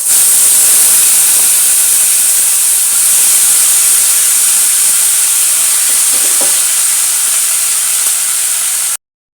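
Vegetables go into a hot pan during South Indian home cooking, giving a loud, steady sizzling hiss that runs without a break and cuts off abruptly near the end, with no talking.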